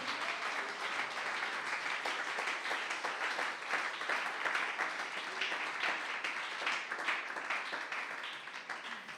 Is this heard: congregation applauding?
yes